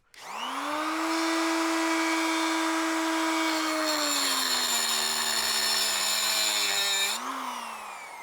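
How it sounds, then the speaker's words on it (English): A Sawzall reciprocating saw cutting down a steel cheater bar: a steady, droning motor whine with strong harmonics runs for several seconds, dips slightly in pitch under load, then spins down. "I've been wanting to try out my Sawzall"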